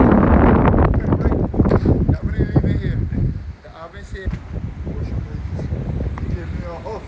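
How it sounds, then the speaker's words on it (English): Gusty wind on a Barbados beach house building site buffets the microphone in loud low rumbles, easing after a few seconds, with a voice talking over it. "sorry about the wind"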